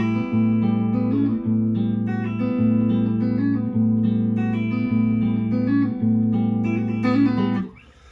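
Electric guitar plays the bridge of a song, a steady strummed and picked chord pattern with sustained harmonic tones, loud and close, then a small embellishment before it cuts off near the end.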